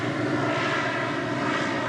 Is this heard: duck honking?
no